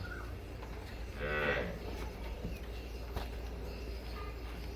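A single short moo from a Cholistani Friesian cross cow at middle distance in Pakistan, rising out of a steady low outdoor hum and then fading away.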